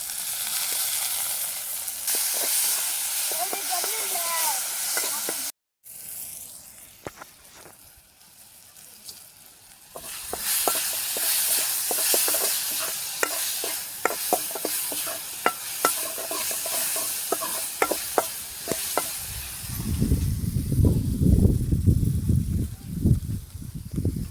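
Tomatoes sautéing with a little salt in a pan for a sundakkai puli kuzhambu, stirred with a steady patter of spoon scrapes and soft sizzling that turns into a louder, denser sizzle near the end, with no talking.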